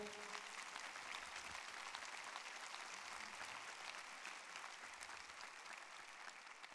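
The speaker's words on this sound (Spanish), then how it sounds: "¿Por qué no le da un aplauso fuerte a Él?" A church congregation bursts into sustained, dense applause, a broad wash of clapping that carries on evenly for nearly seven seconds without anyone speaking over it.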